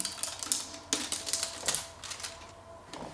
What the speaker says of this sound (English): I'm going to go ahead and peel this off of the LCD